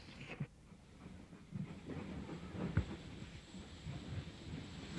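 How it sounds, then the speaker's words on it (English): A steam train on the Bluebell Railway rolls along with a low rumble, rhythmic clickety-clack and a soft hiss, heard at moderate distance without talk. "the special train returns to Horsted Station"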